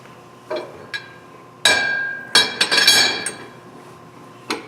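A metal spindle is dropped into place on an SCMI shaper, giving a sharp metallic clank followed by a cluster of quick clinks and rattles, close and loud, with lighter taps before and after.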